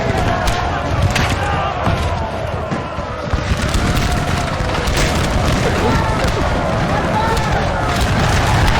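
Massed musket volleys at point blank range in Napoleon Total War, Prussian line infantry taking fire, a dense continuous crackle and boom of battle with a voice talking over it throughout.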